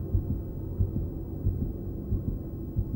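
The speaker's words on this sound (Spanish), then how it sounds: "los sonidos que emite el organismo de su madre, como los latidos del corazón" Mother's heartbeat as heard from inside the womb: a slow, steady, muffled low thumping pulse repeating about every two-thirds of a second under a soft continuous hum.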